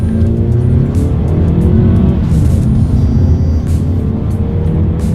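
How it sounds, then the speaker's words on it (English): A 2019 Mazda 3 accelerating hard in sport mode, its engine note climbing steadily in pitch as it gathers speed, loud and continuous throughout with no talking. "we are going to do a quick little acceleration here, and let's see how quickly we can get the new 2019 Mazda 3 up to speed"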